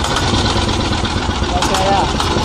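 Kubota RT140 single-cylinder diesel, Thailand-made, on a Mekong Delta grocery boat, being started with its electric starter: a steady, loud, close mechanical drone with no clear start or stop, while voices talk over it.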